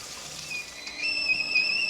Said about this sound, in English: you can hear the kettle whistling away